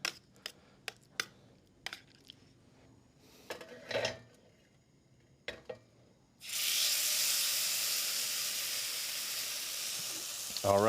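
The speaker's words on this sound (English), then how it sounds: "And then we're going to go ahead and sear the pork." Pork hitting hot olive oil in a pan at a cooking demo, bursting into a loud, steady sizzle that holds for several seconds after a run of sharp knocks and clatters.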